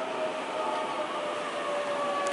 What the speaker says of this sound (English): That is our train right there.